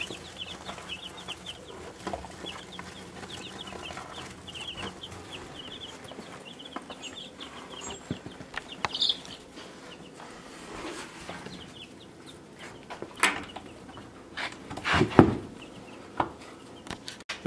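Young chicks in a brooder make soft, scattered cheeps and clucks over a low background hum, with occasional sharper taps and knocks near the end.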